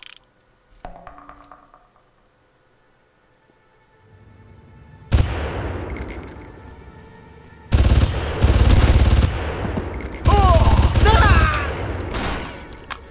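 Gunfire in the video game Far Cry: after a quiet stretch with a few faint clicks, a single loud shot hits, then heavy bursts of rapid automatic fire follow, with voices shouting over the later bursts.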